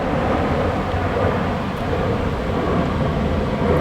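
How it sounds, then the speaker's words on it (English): An airplane passes overhead as a steady, loud broadband roar that fills the whole stretch without breaks or voices. "I had to wait until at least a plane went overhead."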